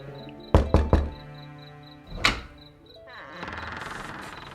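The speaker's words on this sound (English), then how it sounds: "Be a gentleman, Zach, and knock on the door" Three sharp knocks on a door in an audio drama, a brief pause, then a single louder knock, all close and dry over a faint steady background tone that gives way to a soft rushing wash at the end.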